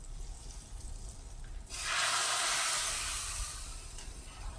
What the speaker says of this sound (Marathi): आता ही फोडणी याच्यात टाकून घेऊया.